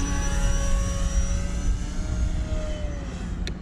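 RC Turbo Timber Evolution plane on floats flying close by, electric motor drone steady and loud throughout with shifting whine as power changes, a couple of brief clicks near the end.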